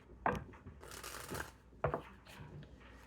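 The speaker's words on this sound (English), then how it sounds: "One more shuffle." Tarot cards being shuffled in a few quick riffling bursts, papery flutters close by with short pauses between them, no talking.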